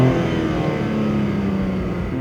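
A 2023 BMW M2 engine with M sound control on revs in a deep, throaty, sustained roar, steady and loud, heard up close without talking.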